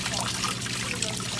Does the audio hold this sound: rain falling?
no